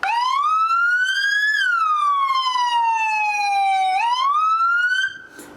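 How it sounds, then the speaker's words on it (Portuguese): A loud electronic ambulance siren in its long-range tone sweeps slowly up and down in long, drawn-out wails, close and continuous, then drops away at the end. "As equipes do SAMU alertam para os toques das sirenes"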